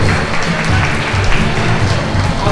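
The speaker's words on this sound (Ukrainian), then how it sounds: "тепер оплески всім нашим учасникам" A crowd claps steadily in sustained applause for contest participants at the National Museum of Books and Printing in Kyiv, dense and fairly loud, with no one speaking over it.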